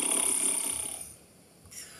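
A ventriloquist imitates snoring with a voice, a single drawn-out nasal snore that fades into quiet, followed by a faint short breath.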